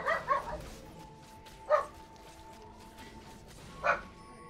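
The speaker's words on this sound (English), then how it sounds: "Doggos are barking at like nothing." Dogs bark in a few separate sharp yips and bow-wows, moderately near, with quiet gaps between them over a low steady background.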